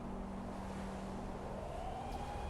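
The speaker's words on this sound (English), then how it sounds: "Police sirens are wailing in the Oasis arcade" Police sirens wail in a video game's Oasis arcade, a steady rising and falling tone over a dense background din, with no one speaking.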